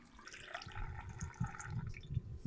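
Still Austin rye whiskey pours steadily into a wooden barrel, a continuous close liquid gurgle and splash with small dripping bursts throughout.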